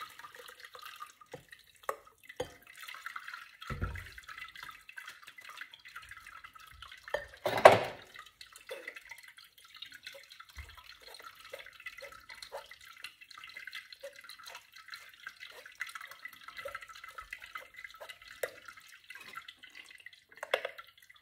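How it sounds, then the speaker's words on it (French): Juice drips through a sieve into a container: scattered small drips and trickles, faint and close, with one louder splash partway through and quiet gaps between. "Maintenant, nous allons tamiser."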